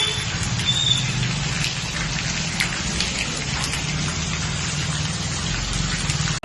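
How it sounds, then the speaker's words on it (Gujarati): Steady rain falls in a village, a dense, even patter of drops on surfaces that holds at a constant loudness throughout, close and unbroken, with no voices. "અમે વરસાદ ચાલુ થયો"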